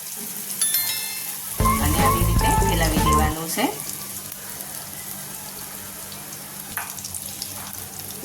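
Loud sizzling as two spoonfuls of bottle gourd batter fry in a hot pan, with a burst of clattering, then a steady quieter hiss continuing for several seconds.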